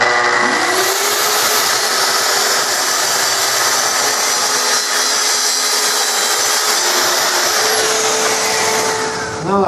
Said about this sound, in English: I'm just going to use my TS55 track saw and make this cut.